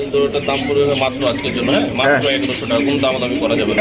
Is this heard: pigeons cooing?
yes